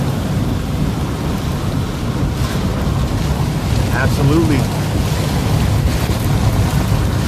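Strong storm winds roar steadily with heavy rain during a storm chase, a dense, loud rushing wash that buffets the microphone throughout while someone speaks briefly.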